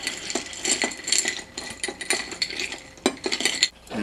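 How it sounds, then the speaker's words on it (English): A bourbon old fashioned cocktail is stirred in a glass, with repeated light clinks and rattles of a spoon against ice, close and fairly brisk, with no voices. "Give it a stir."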